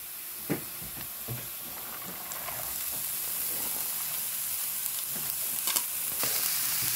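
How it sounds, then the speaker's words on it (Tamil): Garlic and vegetables sautéing in a pan, a steady close sizzle and hiss with occasional stirring clicks and taps. "பூண்டோட பச்சை வாசனை போகிற வரைக்கும் பூண்டை வந்து வதக்கி எடுத்துக்குவோம்."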